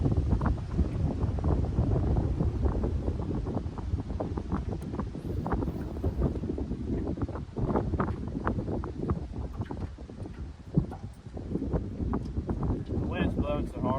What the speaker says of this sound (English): Now the wind's going to blow so much you can't hear that.